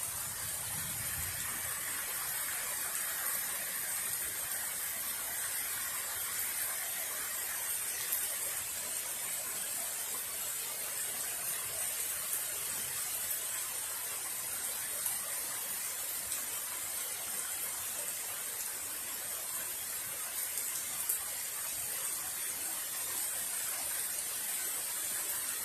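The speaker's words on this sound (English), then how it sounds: "We got some good drenching rain." Heavy drenching rain falls steadily in a storm with strong wind, a continuous broadband hiss, even and unbroken throughout, with no voices.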